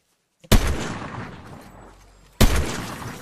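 Two sharp, loud sniper rifle shots in a video game, about two seconds apart, each with a sudden crack followed by a long rolling echo that fades out.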